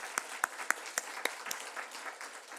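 A church congregation at an Easter Sunday worship service claps in a steady rhythmic beat, with several sharp, distinct claps at first that blend into a softer, quieter patter of applause.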